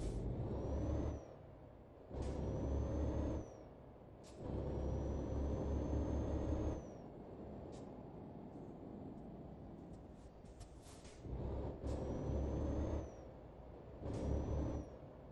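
A heavy truck in Euro Truck Simulator 2 pulls away with a deep diesel rumble that swells and eases through several gear pulls, with a faint hiss and whine on top of each surge.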